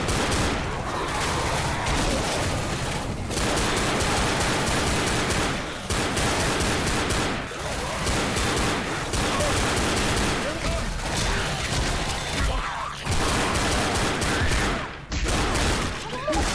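Continuous bursts of gunfire from the zombie video game Left 4 Dead, rapid overlapping shots filling the whole stretch at close range with only short gaps.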